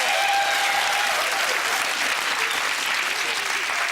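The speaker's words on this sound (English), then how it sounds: "Give them a big round of applause!" Loud, sustained studio audience applause at a UK game show, a dense steady wash of clapping with some cheering voices mixed in throughout.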